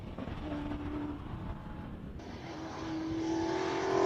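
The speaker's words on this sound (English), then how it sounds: "911 Turbo comes through" A classic Porsche 911 Turbo passing at a Cape Town hillclimb, its engine note swelling and growing louder as it approaches, heard alone at a moderate distance.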